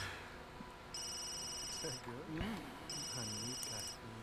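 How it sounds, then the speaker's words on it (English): A phone rings in The Sims 3 with repeated electronic ring bursts in steady pairs, heard under a voice talking over game sounds. "can my phone please stop ringing?"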